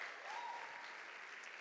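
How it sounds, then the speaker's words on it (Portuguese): Faint, distant applause from a church congregation at an evening service, a steady wash of clapping under a brief whistle-like tone, with no speech over it. "Uma salva de palmas para a galera da mídia aí"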